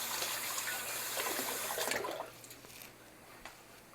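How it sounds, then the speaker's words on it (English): Water pours steadily from a kitchen tap as hands are washed during peach pie baking, a broadband rush that runs for about two seconds and then drops to a quieter trickle with a few faint splashes. "I'm going to wash my hands."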